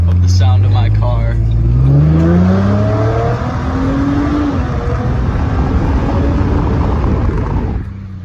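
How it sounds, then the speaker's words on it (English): A car engine revs and runs loud and close, its pitch climbing in rising sweeps before settling into a steady heavy drone that fades slightly at the end. "And I just never seem to get tired of the sound of my car."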